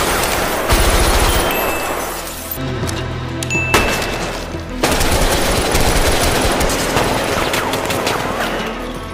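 Sustained bursts of automatic gunfire and scattered single shots in a film shootout, loud and close, with sharp cracks and brief lulls, and no voices.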